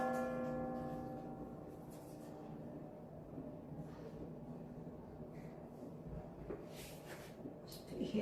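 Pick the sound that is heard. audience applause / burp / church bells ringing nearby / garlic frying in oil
church bells ringing nearby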